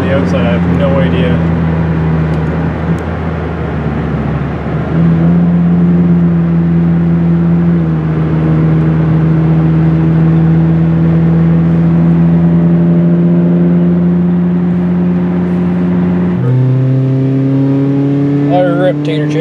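A Toyota 1NZ-FE 1.5L four-cylinder engine with an upgraded throttle body is heard from outside the car, a loud steady drone held at several raised rev levels that step up and down in pitch, ending with a further rise.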